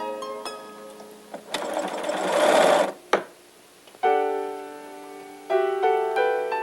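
A sewing machine stitching fabric for continuous bias binding, heard as a close, loud whirring run that swells and stops, with shorter bursts and tonal mechanical hum before and after.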